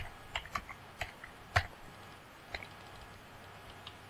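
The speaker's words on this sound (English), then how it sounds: "I heard you typing." Sparse, uneven keyboard typing: a handful of separate key clicks and taps with pauses between them, fairly quiet against a low room hum, no voices.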